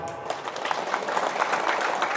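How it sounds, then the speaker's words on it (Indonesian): The crowd at an Islamic religious lecture breaks into applause, a dense wash of clapping that starts after a brief moment and holds steady, fairly loud, for about two seconds. "Tepuk tangan dulu."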